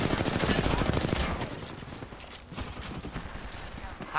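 Rapid gunfire bursts in an Apex Legends squad match, dense and loud for the first second or so, then thinner scattered shots under game noise while players talk over it.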